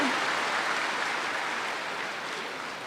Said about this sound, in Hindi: इन लोगों के लिए ताली तो बजाओ